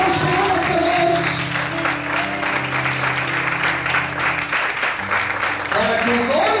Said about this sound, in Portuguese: Merece mais fortes palmas a Deus. Aplauda o Senhor nessa noite.